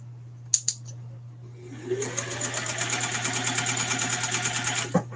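A sewing machine top-stitches a lanyard ID holder, its needle running in a steady rapid rhythm for several seconds after a couple of brief clicks, close and clear with no talking.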